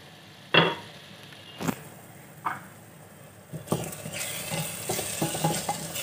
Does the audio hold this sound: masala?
yes